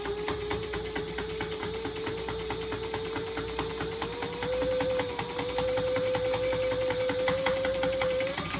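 Sewing machine top stitching two fabric pieces together, a steady close whirring run of rapid needle strokes that speeds up slightly midway, with no talking.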